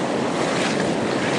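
Ocean waves break steadily on the shore at Casiguran, Aurora, Philippines, a dense, loud, continuous wash of surf with wind noise on the microphone and no voices.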